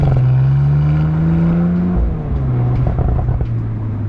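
Audi RS4 Competition V6 engine at low speed in town in dynamic mode and S, held around 2,500 rpm, a deep burbly rumble held steady at close range, with a slight dip in tone partway through.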